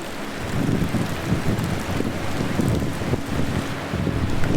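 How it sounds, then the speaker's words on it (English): Continuous rushing water and surf on the Maine coast with strong wind buffeting the microphone, a loud, turbulent outdoor roar. "Like you can hear, the water."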